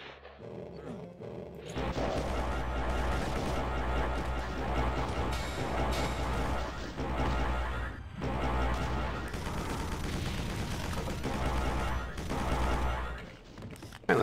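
Rapid energy-weapon fire from the Laser Rifle Mark II in a modded Doom 2 map, a dense, continuous barrage of shots running almost unbroken, with brief gaps near two and eight seconds, loud and up close.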